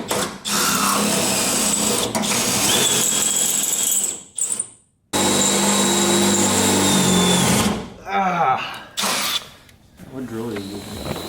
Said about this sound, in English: What drill are you using? my Milwaukee.